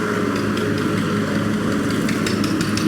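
A steady, low engine rumble of a 2001 Farmtrac 60 double-clutch tractor idling continuously throughout at a tractor fair in Talwandi Sabo, Punjab, with a faint rattling texture on top and no voices.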